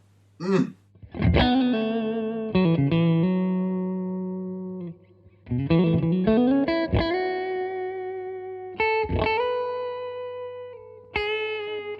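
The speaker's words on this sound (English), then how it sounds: "Valve-driven spring reverb." An electric guitar played through a Victory V40 Deluxe valve amplifier with its valve-driven spring reverb, several separate chords and single notes ringing out with a spacious reverb tail between pauses.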